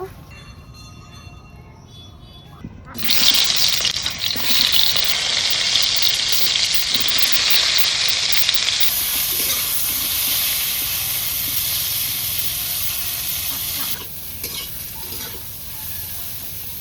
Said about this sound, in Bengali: এবার আলু পটলটা আমি ভেজে নেব। প্রথমে কড়াইতে তেল দেব